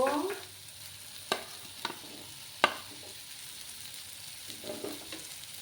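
Dried fish (shutki) frying in a pan, heard as a soft background sizzle with a few sharp clinks and scrapes from stirring, the loudest tap midway, close and without speech.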